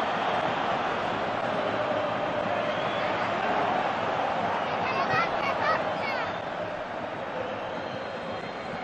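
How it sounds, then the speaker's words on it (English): Large football stadium crowd at a Copa del Rey match between Atlético Madrid and Real Madrid, jeering and whistling at Memphis Depay, a dense sustained roar with shrill whistles rising briefly, while a commentator talks over it. "Memphis Depay getting the bird from the crowd"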